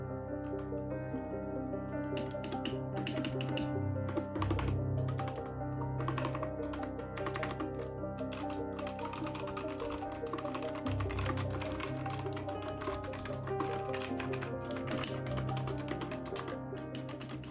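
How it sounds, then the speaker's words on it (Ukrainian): Rapid, clicky keystrokes on a Rockwell Evo computer keyboard, typed steadily and close up for the whole stretch over a faint background hum. "Клавіатура називається Rockwell Evo. Cartridge. Так, слухаємо, як звучать клавіші."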